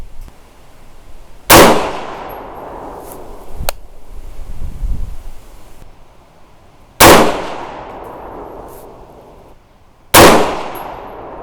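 Three sharp, loud rifle shots from a 6.5 Grendel firing 85-grain Sierra Varminter bullets crack out at an outdoor range, spaced several seconds apart, each with a ringing decay, and a quieter rustle comes between the first two.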